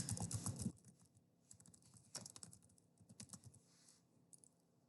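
Quiet, irregular keystrokes on a computer keyboard, typed in short clusters with brief pauses, close to the microphone and without speech.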